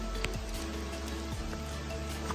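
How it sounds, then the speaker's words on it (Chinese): Rain falls steadily on the mountain trail near the Walami suspension bridge, a continuous soft patter and hiss with a low rumbling background throughout. "现在天气在下雨，下雨中。"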